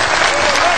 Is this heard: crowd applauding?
yes